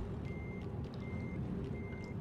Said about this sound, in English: that's me reversing a truck